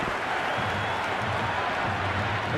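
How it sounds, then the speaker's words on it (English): Dense, steady roar of a stadium crowd cheering at an IPL cricket match between RCB and CSK in the video game Cricket 26, a continuous wash of massed voices holding level throughout with no clear breaks. "It's evident and ever so audible that the crowd is at near bursting point at today's play."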